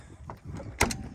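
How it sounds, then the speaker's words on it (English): An RV entry door with a newly replaced keypad lock swings open, giving one sharp mechanical clack with a brief rattle after it, set against quiet background noise. "Opens the door."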